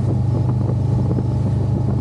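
Steady motorcycle engine drone mixed with heavy wind rush on a mountain road in Morocco's Atlas range, loud and continuous with no talking.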